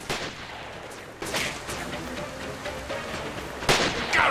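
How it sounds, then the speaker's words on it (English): Gunfire in the video game Spider-Man: Shattered Dimensions, a few loud, sharp shots and blasts over a busy, noisy background, fairly close and irregular. "you people with your guns!"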